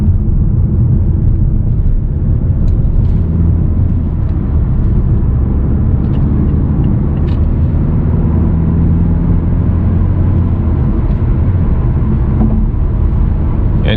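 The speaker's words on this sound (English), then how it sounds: "so you can hear maybe a little bit of the engine, cabin noise, and just hear the car" Steady low engine drone and road rumble inside a 2019 Mazda 6 CD150 Revolution cruising on a highway at night, continuous and fairly loud with no talking.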